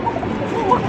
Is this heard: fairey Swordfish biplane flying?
no